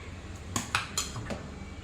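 Steel idli plates set one by one into an idli stand in a home kitchen, giving about four quick metallic clinks and taps, close and fairly quiet against a faint background hum.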